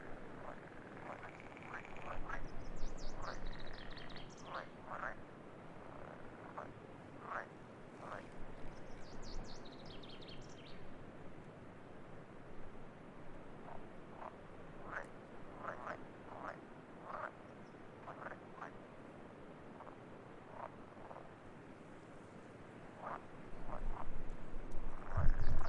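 Pool frogs croak repeatedly in short rasping bursts at a pond in the Örskär nature reserve, a steady chorus of calls near and far with a faint outdoor background.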